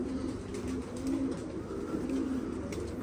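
Pigeons coo softly at a pigeon loft, low murmuring calls over a steady background hum, faint and continuous.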